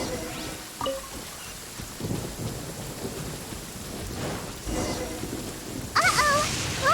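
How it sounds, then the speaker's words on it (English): Thunderstorm in Genshin Impact, steady rain hiss broken by rumbling thunder rolls and a sharp crack near the end, with no speech over it. "Lightning storm!"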